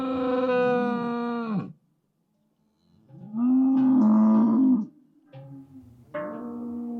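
Cattle moo in long, drawn-out calls in the Swiss Alps, three lowing bellows separated by short pauses, clear and fairly close.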